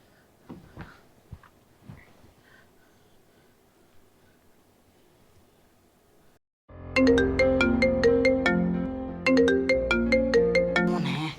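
A phone ringtone plays loudly and steadily in a repeating melodic pattern, starting after a few seconds of quiet rustling and soft background noise.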